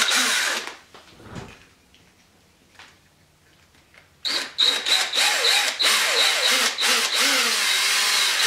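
Power drill with a step bit boring a hole through a metal cymbal for an electronic drum conversion; after a quiet pause, a loud, close, continuous whirring grind with brief dips, running to the end.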